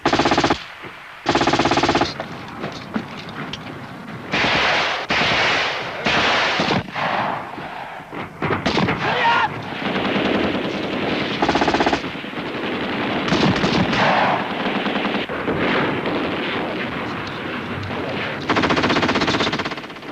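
Machine-gun bursts and rifle fire crack repeatedly during a 1983 British Army infantry and tank attack exercise. The shots come in loud, irregular volleys that keep going with no break.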